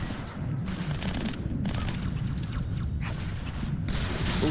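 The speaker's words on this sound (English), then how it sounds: "somebody zapped me with a laser rifle" Laser rifle fire in Halo 2 comes as repeated bursts of crackling, zapping energy shots, close and fairly loud over a low rumbling game background, with no talking.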